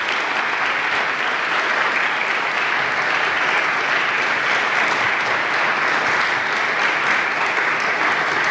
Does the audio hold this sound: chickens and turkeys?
no